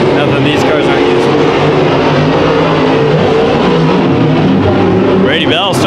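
Race cars roar around the Bakersfield Speedway oval during a heat race, a loud continuous engine drone with rising and falling pitch as cars pass, under an announcer's steady commentary.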